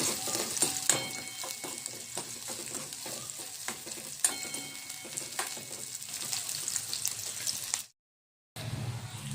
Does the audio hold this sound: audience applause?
no